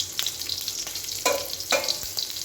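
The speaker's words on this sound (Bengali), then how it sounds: "এই যে কলমি শাক ভাজা করব, আমি এখানে ফোড়ন দিয়ে দিয়েছি" Water spinach (kalmi shak) fries with tempering spices in a pan: a close, steady sizzle with a few louder crackling bursts as it is stirred.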